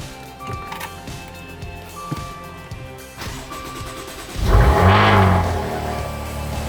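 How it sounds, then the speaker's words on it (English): A Maserati Ghibli SQ4 engine cranks and fires at about 4.5 seconds, a loud burst that settles into a steady idle, following quieter clicks and chimes from the car. "Let's turn the engine on."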